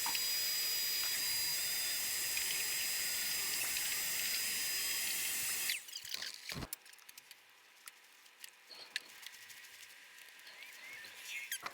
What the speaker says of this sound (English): Miter saw works pretty good for this, although it has a strong smell when you cut the PVC like that.